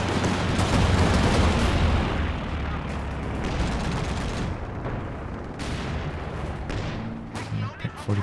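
A Centaur tank fires in a Company of Heroes 2 multiplayer battle, its shots buried in a dense, continuous din of gunfire and booming artillery with sharper bursts near the end.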